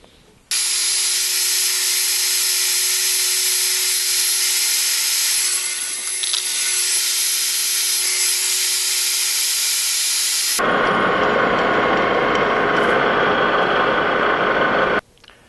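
A boring bar takes a cut inside a bore on a metal lathe in a machine shop, a loud, steady broadband cutting noise running alone for about ten seconds before shifting to a harsher, grittier tone toward the end.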